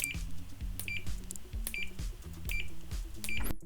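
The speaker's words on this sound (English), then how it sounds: "even the smallest amount of contact between the probes results into like a minimum beep" A Kaiweets KM601 multimeter gives continuity beeps as its probes touch: about five short electronic beeps at a steady pace over a low mechanical hum, each a clear pitched tone lasting a fraction of a second.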